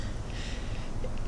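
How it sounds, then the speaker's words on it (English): A single sneeze bursts out loud and close at the very end of a quiet stretch, brief and sharp after near-silence. "I'm going to sneeze."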